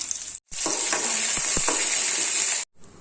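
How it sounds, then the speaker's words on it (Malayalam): Mustard seeds, dried red chillies, onion and curry leaves sizzle hard in oil in a pan as a tempering for chutney. The frying hiss is loud and continuous, with a few sharp pops, and briefly cuts out at the start and end. "ഒരു ചീനിച്ചട്ടി വെച്ചിട്ടുണ്ട്. അതിൽ കടുവും വറ്റൽമുളകും ഉള്ളിയും നമ്മൾ ഇട്ടിട്ടുണ്ട്."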